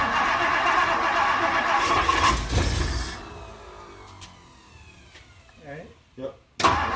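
A Mercury car engine fitted with a Motorcraft 2100 carburetor cranks and tries to catch, giving a loud rough burst over several seconds before dying away. Voices talk nearby, then a couple of sharp knocks follow.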